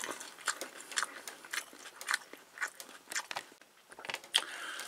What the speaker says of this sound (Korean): 김치가 들어가니까 아삭한 맛이 더 좋네요.